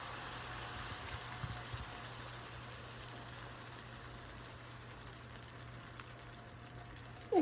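Canned cream pours into a pan of homemade southern-style gravy, a steady, faint liquid rush that runs unbroken for several seconds and ends with a brief clunk.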